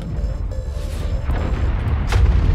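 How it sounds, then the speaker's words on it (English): A thump cannon firing in MechWarrior 5, a dull low boom under a steady mechanical rumble, with a sharper burst near the end, loud and close. "That was the thump cannon shooting."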